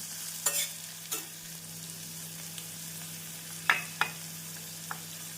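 A steady soft sizzle of onions and green chillies frying in a pan, with a few sharp scrapes and taps of a spoon stirring, accompanied by a low hum.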